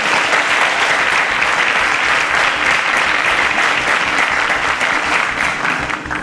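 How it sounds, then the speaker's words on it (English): Studio audience applauding a quiz show contestant, sustained dense clapping that stays loud and steady for the whole stretch before easing slightly at the end. "A round of applause for Enoch."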